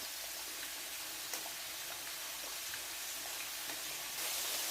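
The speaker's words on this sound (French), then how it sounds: "Je vais laisser le beurre fondre." Butter melting in a hot frying pan on the stove, a steady soft sizzle with faint crackles and pops throughout, close and alone.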